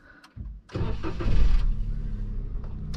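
A 1000 cc Daihatsu Sigra with a manual gearbox cranks with a brief starter whir, catches and fires up loudly, then settles into a steady close idle.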